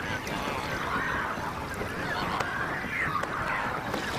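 Huge flocks of flamingos gather on the shallow lake of the Makgadikgadi pan in Botswana, sending up a dense, continuous honking and gabbling chorus that sounds fairly close.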